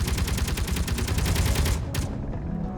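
Gatling gun fire in Space Engineers, a rapid, steady stream of loud mechanical shots lasting nearly two seconds before cutting off, followed by a short burst and fading ambience.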